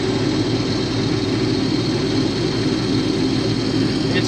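A combine harvester cutting Kansas wheat alongside another combine, its engine a loud, steady, close drone with a heavy low rumble that holds unchanged throughout.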